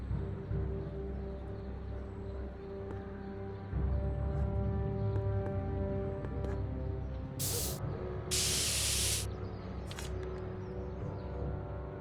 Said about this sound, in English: Spray paint. Directions say to apply a thin coat and let dry.